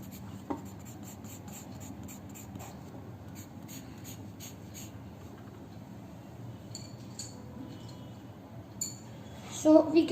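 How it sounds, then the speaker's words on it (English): A charcoal pencil shades a dark beard on paper for a portrait sketch, giving a faint, steady scratching across the whole stretch, with a few light taps and rubs near the end. "For making the beard, we will again use a charcoal pencil."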